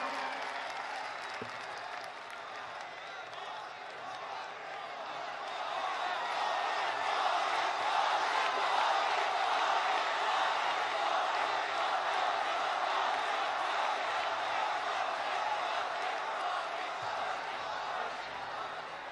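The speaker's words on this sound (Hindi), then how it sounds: "माननीय श्रीमती वसुंधरा राजे जी, जोरदार तालियों से उनका स्वागत करें" A large audience of students at a live interaction event applauds loudly to welcome a chief minister, a dense sustained clapping that swells after a few seconds and continues steadily throughout.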